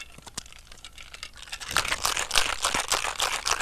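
A margarita is shaken with ice in a cocktail shaker. Faint scattered clicks give way to a loud, rapid, continuous rattle of cubes knocking inside the container.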